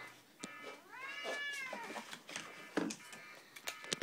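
A cat meows repeatedly in a series of drawn-out, rising and falling cries, close and fairly quiet, with small clicks and rustles between calls and no talking.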